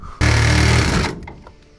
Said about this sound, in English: I'll grab the Sawzall. The bandsaw.